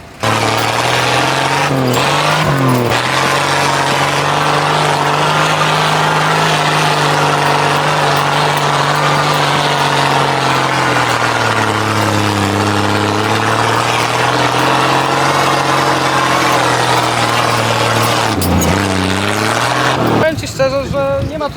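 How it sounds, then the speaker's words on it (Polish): An old military truck's original petrol engine with a straight-through exhaust idles with a deep, throbbing rumble close up, its pitch sagging and rising briefly a few times, at a historic military vehicle rally. "to jest oryginalna benzyna i na przelotowym wdechu to tak chodzi"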